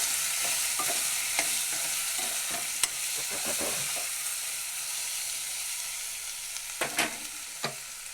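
A masala with turmeric, chili powder and salt is stirred in a pan, with a soft, continuous sizzle and scattered clicks and scrapes of a spoon against the metal.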